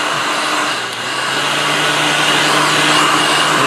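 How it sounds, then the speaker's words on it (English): A heat gun blowing hot air onto an iPhone, a loud steady close whooshing roar of the fan and air that runs without a break. "you bust out the old heat gun or a hairdryer, if that's all you got"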